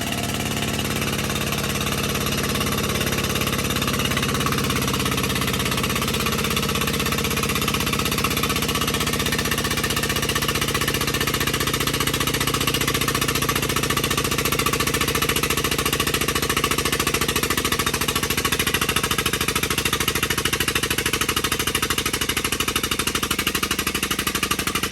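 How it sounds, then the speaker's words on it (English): A hydraulic press forces a bushing into a CAT 637 scraper hitch part with a bearing mount fitted, giving a loud, steady machine roar with a rattling, hammering texture that runs unbroken for the whole stretch. "here we are pressing a bushing in"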